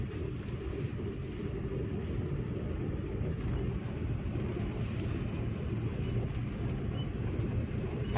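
Manual car driven with steady throttle on an open lot, a low continuous engine and road rumble holding even and unchanging throughout, with no one talking.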